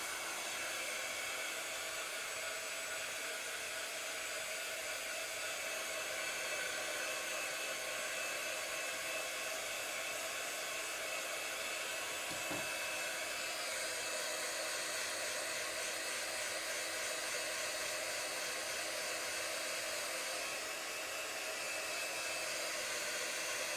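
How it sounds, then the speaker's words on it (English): A heat gun blows on a mixed media painting of a sleeping koala, a steady loud whooshing hiss running unbroken throughout, close to the microphone, with one faint brief tap partway through. "I'm going to give this a blast with the heat gun"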